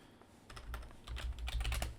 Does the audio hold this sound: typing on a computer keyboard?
yes